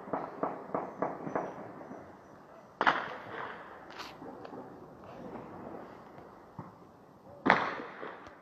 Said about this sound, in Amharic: ባህር ዳር አሁን ከባድ ተኩስ አለ